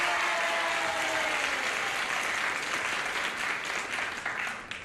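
Studio audience applause on a 1974 game show fills the clip, a dense, steady wash of many hands clapping close by that holds evenly and tapers slightly near the end, with no talking over it.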